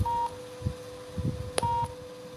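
Telephone number being dialed, a few short keypad tones over a steady line tone, with faint background murmur and no clear speech.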